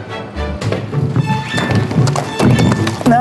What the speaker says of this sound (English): drives the horses back to their stables